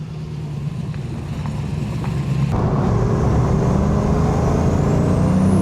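Turbocharged TVR sports car pulling away, its engine note building louder and rougher as it accelerates, with a rising whine near the end.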